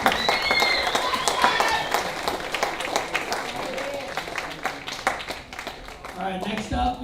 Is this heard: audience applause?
yes